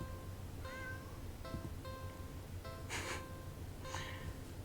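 Several short cat meows from a video game, spaced across the clip over a steady low background hum, with a couple of breathy, gasp-like bursts in between.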